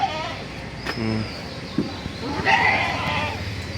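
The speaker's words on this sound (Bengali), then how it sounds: "এই প্রথমে একটা খাসি দেখতে পাচ্ছেন।" A castrated goat at a cattle farm gives a short bleat and a second wavering call within a few seconds, heard against outdoor background noise.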